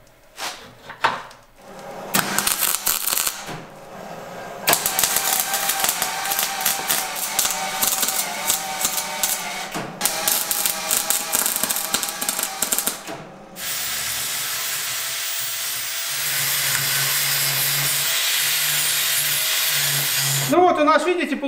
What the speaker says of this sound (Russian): Вот сейчас все это дело сварю таким одним юнитом